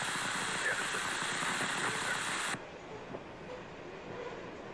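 BNSF manifest freight train rolling past trackside, a loud broadband rumble and rush of cars that drops abruptly to a quieter, steady rolling noise partway through.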